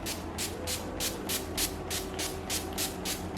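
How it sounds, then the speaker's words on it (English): Quick repeated pumps of a makeup setting spray bottle, about a dozen short hissing bursts in an even rhythm, close by. "Just gonna spread some setting spray."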